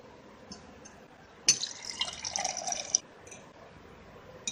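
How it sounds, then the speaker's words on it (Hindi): A short stream of water pours into a glass for about a second and a half, bright and splashy, between faint clinks and drips. "अभी हम इसमें पानी डाल देते हैं।"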